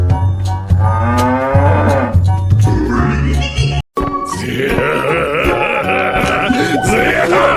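A cartoon cow in a children's slide video game gives a loud, drawn-out moo up close, then after a brief silent break more lowing and grunting calls follow.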